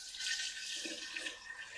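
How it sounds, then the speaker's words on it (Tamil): Water is poured into a pot of chicken dum biryani, a soft continuous splashing trickle lasting under two seconds, close and fairly quiet. "இப்போ தண்ணியை சேர்த்தாச்சு."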